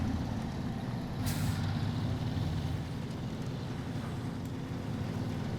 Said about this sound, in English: there goes the engine having a bash